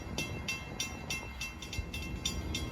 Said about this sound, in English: approaching at 5:45 on time, as he usually is, train 1058 from Grand Central to Brentwood